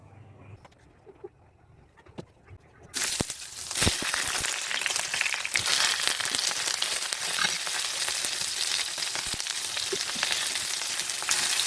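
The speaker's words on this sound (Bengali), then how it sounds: "এরপর আমি ভেজে নেব।" Small-fish patturi wrapped in gourd leaves is laid into hot oil. After a few quiet seconds with light clicks, a loud, dense sizzle bursts in and holds steadily, with occasional crackles and no talking.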